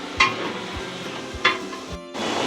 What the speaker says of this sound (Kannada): ಪುದೀನ ಮತ್ತು ಆ ಕೊತ್ತಂಬರಿ ಸೊಪ್ಪನ್ನು ಒಂದೊಂದು ಕಟ್ಟು ಹಾಕ್ಕೊಂಡು ನೀಟಾಗಿ ಫ್ರೈ ಮಾಡ್ಕೊತಾ ಇದ್ದಾರೆ